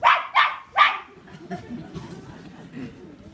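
Toto, a small dog, lets out three sharp, loud yapping barks in quick succession, followed by low, indistinct voices and movement in the background.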